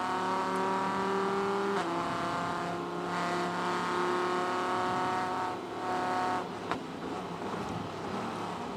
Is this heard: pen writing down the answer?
no